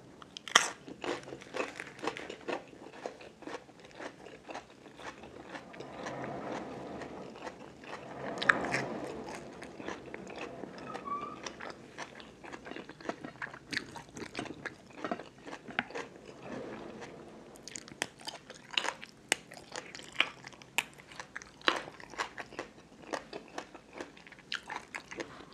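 Crunchy chewing and biting of pork larb with offal, fermented pork sausage, sticky rice and plenty of fresh vegetables, close to the mic with steady irregular crunches and crackles continuing throughout.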